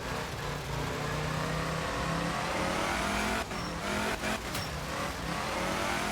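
A Lancia Fulvia rally car in the video game Art of Rally revs hard and loud, its engine note rising and falling as it pulls through corners, with brief dips and tire scrubbing near the end.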